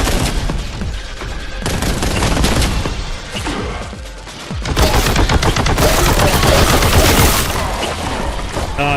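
Boltgun firing in the Warhammer 40K: Boltgun video game during Horde Mode, a dense, loud barrage of rapid heavy shots and booming impacts that runs almost without pause, surging harder in the second half.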